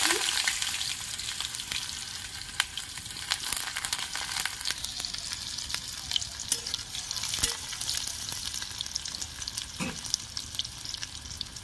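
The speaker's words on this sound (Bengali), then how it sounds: "কালো জিরে ফোড়ন দিয়ে দিচ্ছি" Black cumin seeds tempering in hot oil make a dense crackling sizzle, with sharp pops and clicking stirring scrapes throughout, close and steady, with no talk.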